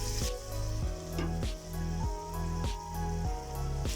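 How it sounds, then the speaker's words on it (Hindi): Paneer malai tikka skewers fry in oil on a greased griddle over a low flame, giving a steady crackling sizzle close by with rhythmic pulses and occasional spatter, and no voices. "हमने धीमी आंच पे ही इसे फ्राई करना है"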